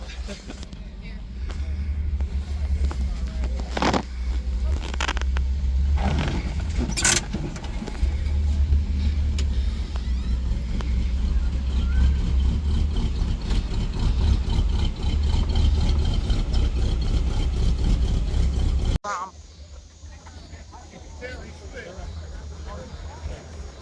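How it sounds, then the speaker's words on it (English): Engine of a Volkswagen car at an off-road and classic car show, rumbling steadily close by as it parks, with people talking over it before the sound cuts to a quieter background. "Look, it's Volkswagen parking."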